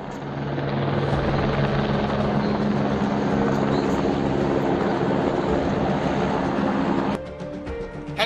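A helicopter flies over the Rishi Ganga river, its steady loud rotor and turbine roar continuous for several seconds before it suddenly drops away near the end.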